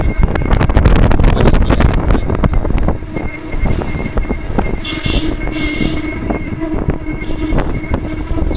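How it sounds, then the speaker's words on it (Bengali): Strong wind buffeting the microphone during a ride on an open van cart along a village road, with loud continuous rumbling gusts that are heaviest at the start and then settle into a steady roar. "বাতাস লাগে।"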